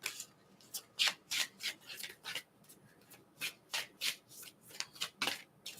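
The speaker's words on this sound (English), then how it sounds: "I'm gonna shuffle in silence until." Close, quiet riffling of a tarot card deck, a series of brief papery bursts repeating irregularly with soft pauses between, no talking.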